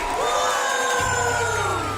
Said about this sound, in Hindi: चलो सब तालियों से उनकी विदाई करो।